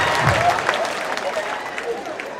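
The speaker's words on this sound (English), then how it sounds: "The same girl started clapping." Applause from a church congregation at a wedding, dense and steady throughout, with crowd voices mixed in.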